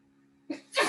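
A single sharp sneeze bursts out after a brief quiet intake of breath. It is close and fairly loud, against faint background hum.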